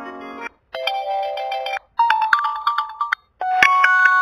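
Message ringtones on an Oppo F17 Pro phone play in three short bursts of bright melodic electronic chimes, separated by brief silences, clear and close with no talking.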